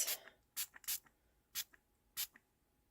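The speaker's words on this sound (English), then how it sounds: "I'm just going to give this a little bit of a spritz." Several short bursts of a spray bottle spritzing paint onto paper pressed in an embossing folder for a craft background, four or five quick, close hisses with brief pauses, no voices.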